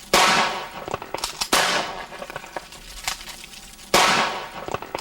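Three sharp cracking bangs from a bird-scaring noise gun bursting in the air at a military air base go off at uneven intervals, each one ringing briefly before fading.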